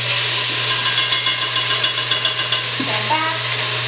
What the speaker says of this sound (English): once you hear that nice sizzle, that's when it's ready to, at its max, to give all those flavors off